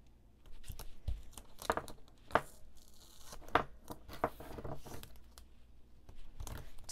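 Double-sided tape tears off the roll in a series of short, close crackling rips and crinkles, irregularly spaced and fairly quiet, with no talk.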